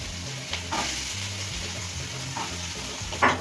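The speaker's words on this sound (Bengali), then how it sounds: "ফোড়নটা দিয়ে দিয়েছি, এবার হচ্ছে আলুগুলোকে ছেড়ে দেবো" Potato pieces sizzle steadily in hot oil tempered with cumin and whole garam masala, a continuous close frying hiss with occasional stirring scrapes and brief bursts.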